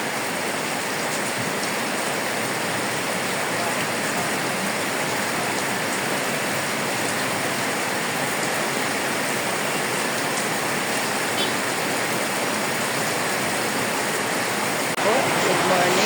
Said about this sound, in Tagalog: Napakalakas ng ulan guys.